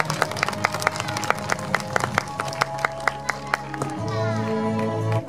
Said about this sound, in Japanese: 皆さん拍手をお願いいたします。